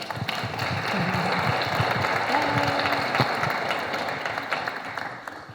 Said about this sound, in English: Let's give them a round of a warm applause